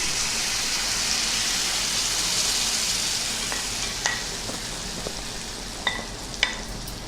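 Vegetable omelette egg mixture sizzling on a hot pan: a steady broadband frying hiss throughout, with a few sharp crackles and pops near the end, no talking.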